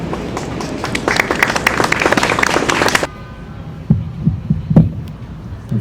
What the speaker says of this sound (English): Let's give another round of applause for those folks.